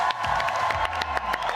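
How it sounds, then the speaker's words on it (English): An audience at a live Pokémon game show bursts into applause and cheering, dense clapping mixed with whoops and excited shouts from a crowd that includes children, loud and sustained throughout. "can we also get a huge round of applause for our amazing production staff?"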